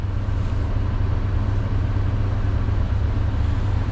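A Scania V8 truck engine with a straight-piped exhaust rumbles at a steady idle, deep and loud. The low, pulsing drone continues without a break and with no voices over it.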